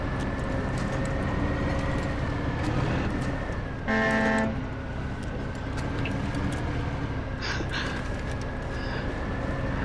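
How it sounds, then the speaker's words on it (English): A truck horn sounds once in the off-road driving game SnowRunner. The short, bright honk lasts about half a second over a constant low engine drone. "Accidentally honked the horn and all the trees fall over."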